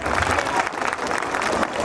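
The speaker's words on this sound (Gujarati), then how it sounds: "ફરી એકવાર અહીં ઉપસ્થિત તમામ મહેમાનશ્રીઓને તાળીઓના ગડગડાટથી વધાવી લઈશું." Audience applause at a school annual function, a dense sustained patter of many hands clapping together in a hall for the whole stretch.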